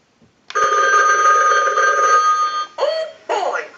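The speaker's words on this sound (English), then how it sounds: "Oh boy, a phone call." A Telemania animated Mickey Mouse telephone rings loudly up close with a continuous electronic bell tone lasting about two seconds, then breaks into short warbling chirps.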